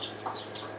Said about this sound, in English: He is a Sarama rooster. It's the smallest breed of chicken.